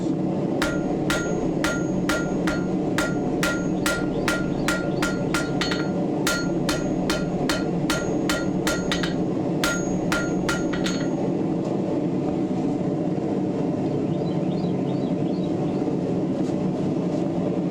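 Hammer blows on hot steel while forging a ring finial, a rapid run of sharp ringing metallic strikes for about eleven seconds, close and loud, then stopping as a low background hum continues.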